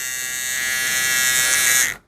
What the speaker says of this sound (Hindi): कल के दिन मेरा वाला ट्रिमर ख़राब हुआ, आज इसके अब्बा वाला ट्रिमर ख़राब